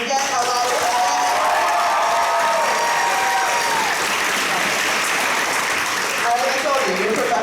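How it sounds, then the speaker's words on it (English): Loud, sustained audience applause with cheering at a high school poetry slam, a dense crowd of clapping and whoops filling the room for several seconds. "And then at the end of each poem, raucous applause. Let's get loud, let's get noisy."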